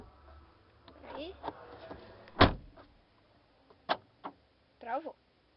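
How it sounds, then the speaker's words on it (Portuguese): Door locks on a Volkswagen Up car clunking shut and releasing, a few sharp mechanical thuds and clicks spread across a quiet interior with faint handling noise in between. "travamento de portas vocês viram"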